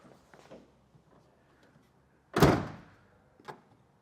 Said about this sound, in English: just ensure that we could still get our tailgate closed. We should get a good latch here at the end.